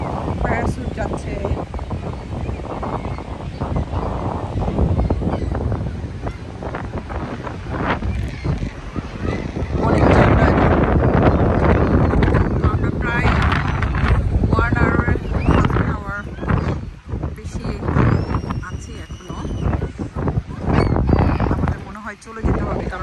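Strong, cold seaside wind buffets the microphone with loud, continuous roaring rumble that surges midway, while voices talk throughout.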